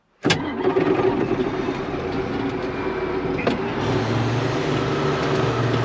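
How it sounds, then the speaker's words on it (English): A farm tractor's engine cranks and catches abruptly, then settles into a loud, steady, close-up running idle. "the tractor's gonna move a little when we start it"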